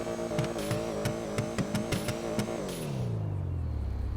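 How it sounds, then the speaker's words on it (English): A Mercedes engine in a video game revs in a series of sharp, rhythmic blips, each rising burst close and loud, then settles into a falling exhaust drone that fades away. "It has its own exhaust note."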